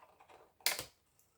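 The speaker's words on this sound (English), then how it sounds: "just using a regular pair of scissors" A regular pair of scissors snips through thin plastic card in one crisp, close cut, preceded by a few faint clicks and rustles and then quiet handling.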